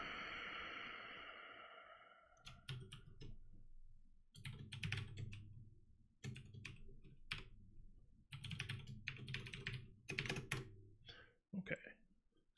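Quick bursts of keystrokes on a computer keyboard while typing code, clustered in short runs separated by brief pauses, close and fairly quiet.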